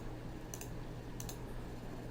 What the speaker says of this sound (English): I'm going to come up here and just start clicking